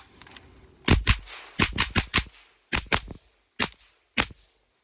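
A B&T TP9 pistol with a B&T suppressor fires regular bullets: about ten sharp, clipped reports, some in quick pairs and others spaced apart, close by and with no talk between them.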